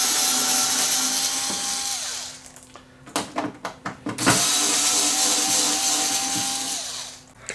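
A power screwdriver backs screws out of the rear panel of a Samsung UN46F6350 TV: a loud, close, high whine runs for about two seconds, then a burst of sharp rattling clicks, then the whine resumes and fades.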